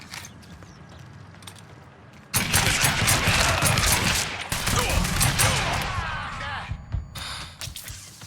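Gunfire in the video game Mafia III, a sudden loud burst of dense rapid shots after quiet ambience, continuing in heavy volleys with a short pause before more shooting.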